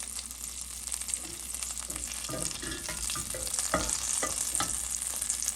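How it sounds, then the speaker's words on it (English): Butter sizzling and melting in a saucepan over medium heat, a steady crackling fry with faint stirring clinks, close and quiet, with no talking. "You can hear by the sizzle it's a little bit too high, so I'm going to turn the heat down just a little bit."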